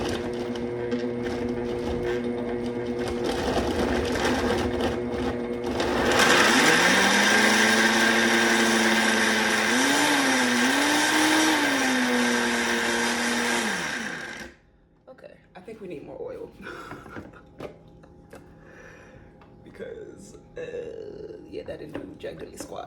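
A countertop blender whirs loudly through basil pesto with oil, the motor pitch rising and wavering as the blades churn for about eight seconds before cutting off, with talk before and after.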